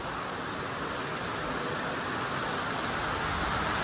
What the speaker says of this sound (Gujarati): કદમગીરીમાં જો વરસાદ ચાલુ થઈ ગયો છે